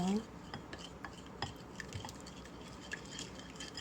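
Spoon stirring mustard sauce in a bowl, soft scraping and light clinks repeating steadily, quiet and close, with a brief voice at the very start.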